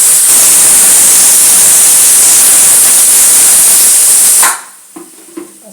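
A pressure cooker full of dal vents a loud, continuous hiss of steam at close range, which cuts off abruptly near the end, leaving faint clinks in a quiet kitchen.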